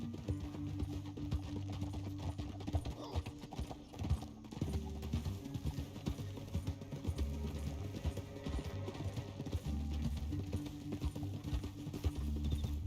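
Horse hooves clip-clop steadily in Red Dead Redemption 2, a continuous rhythmic gallop heard under a game music score, with a brief faint whinny.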